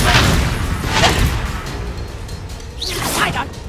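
A Confringo blasting spell cast in Hogwarts Legacy, whooshing bursts and booming impacts in quick succession, loud and close, with a swishing sweep near the end.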